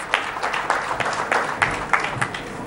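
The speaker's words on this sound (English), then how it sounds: "Welcome him forward with a little round of applause." Audience applause at the CMS Asia 2014 content marketing conference welcoming the conference chair, Mr. R.P. Singh, as steady mid-level clapping from a crowd with distinct louder claps standing out throughout.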